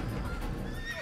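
A horse in the video game Assassin's Creed lets out a short, close neigh over the clip-clop of hooves, with a steady game ambience underneath.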